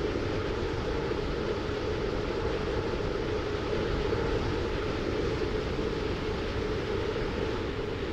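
A 1979 Class 508 train runs steadily in the Roblox game, giving a dense, even rumble and hiss that holds at the same loudness throughout with no breaks.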